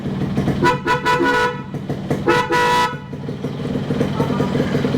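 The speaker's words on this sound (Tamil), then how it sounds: "horn sound bro" Loud car-style horn fitted to a Yamaha RX135 motorcycle honks in several bursts, two long blasts followed by shorter ones, over a running engine idle nearby.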